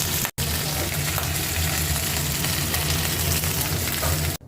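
Chicken leg pieces sizzle loudly in a little oil, a dense, continuous close-up frying hiss with one brief cut near the start and no talking.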